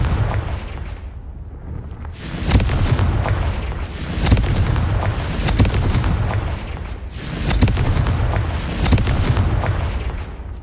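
Repeated Confringo fire-spell explosions in the video game Hogwarts Legacy, heavy booming blasts in clusters with a rumbling low end, loud and continuous with no talking.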